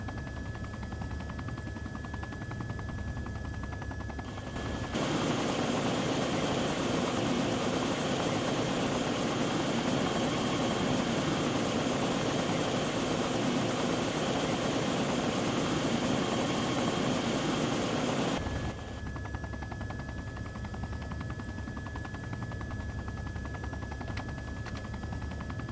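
A military helicopter sets down in a forest clearing in the combat game ARMA 2, its loud, steady rotor and engine roar swelling in for about fourteen seconds over a quieter background hum, then cutting back abruptly.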